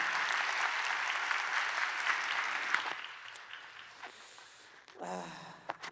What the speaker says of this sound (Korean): 한 번 더 우리 박수로 격려해 주시면 너무너무 감사하겠습니다